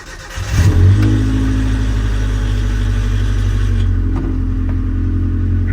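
A Nissan Hardbody truck engine, freshly fitted with a new timing chain, cranks and catches, then settles into a loud, steady rumbling idle close by.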